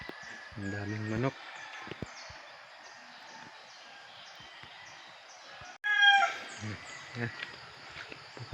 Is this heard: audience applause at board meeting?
no